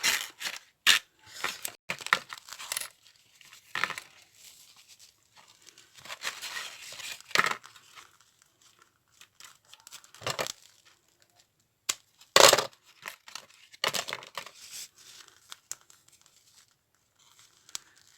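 A small piece of paper is cut close up for a mini art journal: scattered crisp snips, crinkles and rustles in short bursts, with quiet pauses and no talking.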